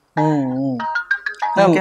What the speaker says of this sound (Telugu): వంశీ తెగ ఫోన్ చేస్తుండే కట్ చేస్తున్నా